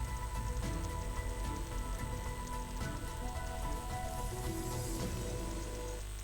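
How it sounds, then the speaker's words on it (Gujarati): Heavy pre-monsoon rain falling in Chhota Udepur, a continuous dense patter on surfaces under a steady hum, holding at an even level for several seconds with no voices. "છોટાઉદેપુરમાં ભારે વરસાદ પડતા જ રસ્તાઓ પર પાણી ફરી વળ્યા હતા।"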